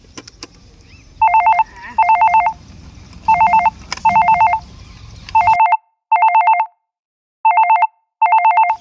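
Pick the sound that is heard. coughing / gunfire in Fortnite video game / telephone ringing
telephone ringing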